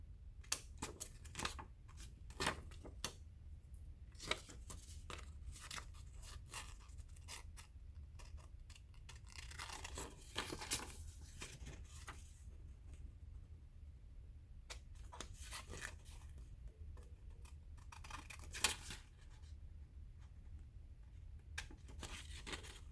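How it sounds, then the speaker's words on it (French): Scissors snip through paper while cutting out a paper star for a Christmas tree craft, giving faint, irregular crisp clicks and rustles spread across a quiet room. "Voilà, j'ai découpé ma première étoile."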